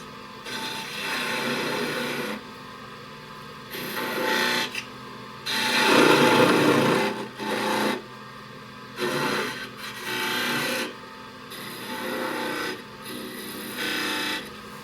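A wood lathe with a detail gouge cutting a bead on a spinning top, heard as repeated rasping bursts of tool on wood that come and go with short gaps, close and fairly loud.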